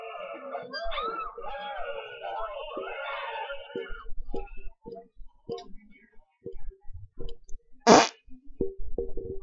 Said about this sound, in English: when you beat him, it makes like a little wet fart